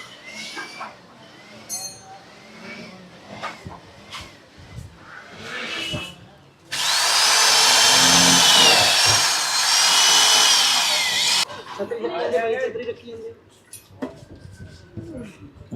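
A power tool runs in one loud, steady burst of about five seconds while fitting bolts to a mounting angle on a tractor, with clinks of metal parts and someone talking before and after.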